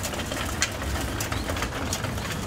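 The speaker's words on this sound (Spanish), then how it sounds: "Comiendo las palomas" Pigeons feed outdoors at a racing loft during a competition, with soft cooing and a few brief bird calls over a steady windy outdoor hiss.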